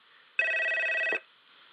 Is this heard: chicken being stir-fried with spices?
no